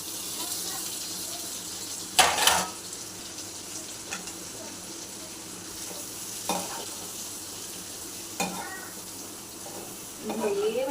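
Chicken liver sizzling and frying with thinly sliced onions and green chilli in a pan, a steady close hiss punctuated by several louder stirring bursts and scrapes.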